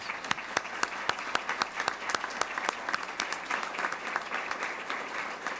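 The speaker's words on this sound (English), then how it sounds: "Please give them one more round of applause." An audience at a city council meeting gives sustained applause, many hands clapping in a dense, steady round with sharp individual claps standing out.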